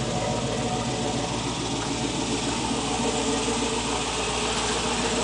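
A Range Rover Classic engine idles steadily with a low, even hum and rattly broadband noise, close by and constant throughout with no talk.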